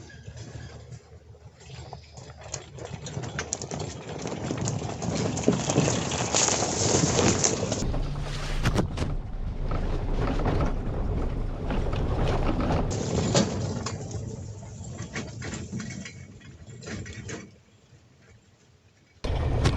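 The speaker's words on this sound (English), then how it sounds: "this is a good example of about the noise level that you will hear as the cart approaches and leaves an area" A lithium-powered UTV cart rolls past outdoors, a broad rumbling rattle of loose parts swelling as it nears, then fading as it moves away, with no voices.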